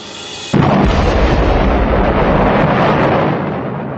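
A column of foamy material bursts out of a tube in a laboratory experiment, hitting suddenly as a loud, dense roar that holds steady before slowly easing off.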